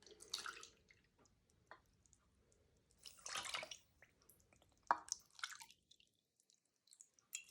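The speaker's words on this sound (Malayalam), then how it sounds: "അതുപോലെ സെയിം അളവിൽ തന്നെ 2 കപ്പ് വെള്ളം ഒഴിക്കുന്നുണ്ട്." Water is poured into a pan of sugar to make syrup for gulab jamun, heard as a few short splashing, dripping bursts separated by near silence, fairly faint and close.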